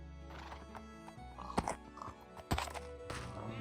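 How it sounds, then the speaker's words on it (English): A horse whinnying with clip-clopping hooves in a video game, two sharp neighs standing out over a steady droning background, game-like and close. "No, there's a horse here as well."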